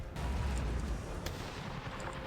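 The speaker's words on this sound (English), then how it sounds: "a cannonball just went straight through their regiment" Cannon fire on a battlefield in Empire: Total War, a dense continuous low rumble of booming artillery with a few sharper cracks, fairly distant and without speech.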